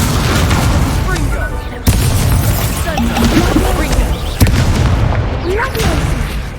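Confringo spell explosions in the Hogwarts Legacy video game, sharp booming blasts amid continuous loud combat noise and shouted voices.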